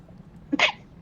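A single person's sneeze during a tabletop Dungeons and Dragons game session, a short sharp burst with a brief intake just before, fairly close and alone against a quiet room.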